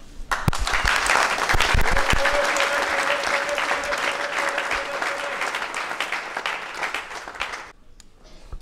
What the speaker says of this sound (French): que nous vous demandons d'applaudir.